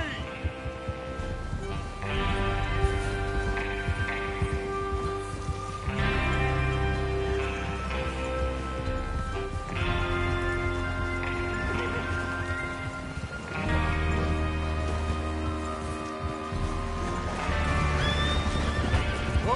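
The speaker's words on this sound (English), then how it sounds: "Get your horses ready." Horses whinny loudly several times over steady clip-clopping hooves in the video game Red Dead Redemption 2, with a music bed and occasional voices underneath.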